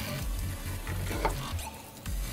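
French toast made from brioche sizzles steadily in a pan of hot, lightly browning butter with cinnamon. It is stirred or turned now and then, with soft scraping and a continuous frying hiss heard close up and without any voices.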